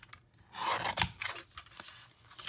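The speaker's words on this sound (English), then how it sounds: "I'm going to get out this little cute trimmer and just trim that down a bit." A small paper trimmer slices through vellum card stock in a few quick, close swishing cuts with brief scraping strokes between them, in a quiet room with no talking.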